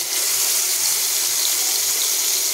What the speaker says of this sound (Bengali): তেলটা আমার মনে হচ্ছে গরম হয়ে গেছে। তো আমি এ পর্যায়ে মাছগুলো দিয়ে দিব।